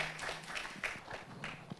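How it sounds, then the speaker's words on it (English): A seated audience at a business panel gives a round of applause, scattered, moderately quiet clapping with uneven bursts and some background murmur. "A round of applause for him once again."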